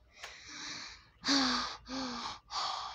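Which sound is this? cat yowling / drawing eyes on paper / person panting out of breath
person panting out of breath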